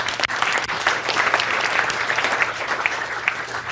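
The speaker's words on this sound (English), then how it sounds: "So give Gabriel a nice round of applause." An audience claps for a volunteer named Gabriel at a live workshop, giving a dense, steady round of applause that stays loud and even from start to finish.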